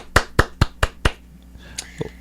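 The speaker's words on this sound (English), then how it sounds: "Clap that up one more time" Five crisp hand claps in a steady, quick rhythm, close and loud, followed by a quieter stretch with faint movement and a soft voice.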